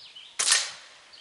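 A single sharp airgun shot cracks close by as the pellet strikes a homemade splatter target, a brief snap that fades quickly into quiet.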